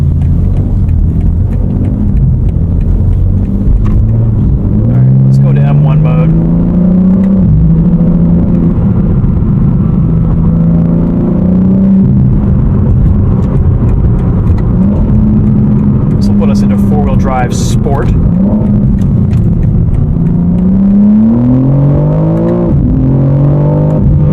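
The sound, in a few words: BMW car engine driving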